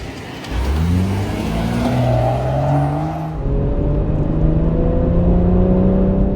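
A BMW M-series performance car accelerates hard, its engine note climbing through rising harmonic tones, loud and close, then easing briefly before surging again in a smooth, strong pull, with no voices over it.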